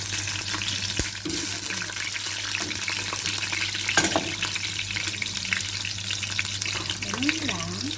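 Food fries in a hot pan with a steady, faint crackling sizzle, a few sharp clinks, and a voice speaking briefly near the end.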